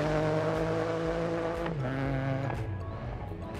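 A Ford Fiesta rally car races in Dirt Rally 2.0 on the Rally Sweden stage, its engine droning steadily and loud with gear-shift pitch drops and brief tyre scrabble, with no voice over it.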